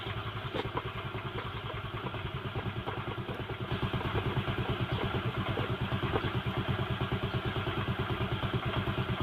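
A Honda Vario scooter with a sputtering, stalling fault runs at idle. Its engine chugs in a fast, even rhythm close by, and it grows slightly louder partway through, with no voices.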